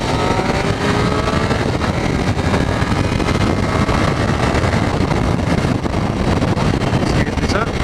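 A Triumph Street Triple motorcycle pulls away from first gear on a country road, its engine droning steadily under heavy, continuous wind rush at close range.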